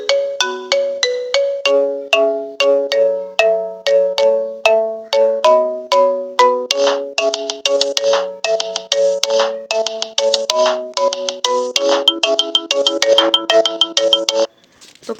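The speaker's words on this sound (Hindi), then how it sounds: "ये बहुत अमेजिंग रिंगटोन्स है जो आप सीरियल्स में देखते हैं" A run of synthetic ringtone melodies from a free ringtone website plays back to back, bright chiming electronic notes in quick repeating patterns, loud and steady for about fourteen seconds before cutting off.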